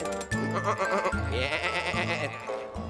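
Cartoon sheep bleat several times in a row, loud and close, wavering cries overlapping one another.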